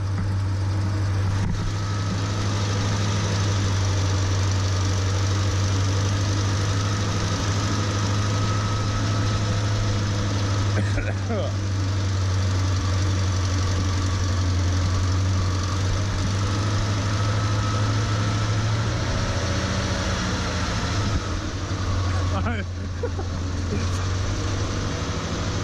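Vintage Massey Ferguson tractor engine running at a steady idle, a continuous low chugging drone heard close and moderately loud throughout, with occasional faint knocks and rattles on top.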